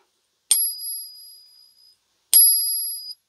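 Two bright metallic rings from a Columbian silver half dollar coin ring test, each a sharp strike followed by a clear high-pitched tone that sustains and fades, the second arriving about two seconds after the first.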